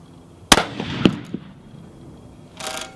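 Two sharp rifle shots from a Savage 10FP chambered in .308 Winchester at a 100-yard range, the first loud and crisp, the second about half a second later, then a faint distant report trailing off.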